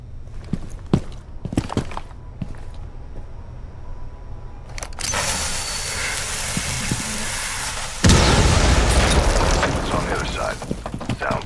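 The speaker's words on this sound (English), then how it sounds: "You're not immune to its explosion." Scattered clicks and a voice, then a loud bomb explosion in Rainbow Six Siege bursts out, followed by a second heavier blast and a long rumbling, crackling roar.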